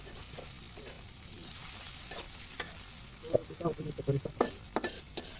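Onions fry in oil as noodles are prepared at home. A soft, steady sizzle runs underneath, and a spatula stirs and scrapes the pan in irregular bursts that grow busier toward the end.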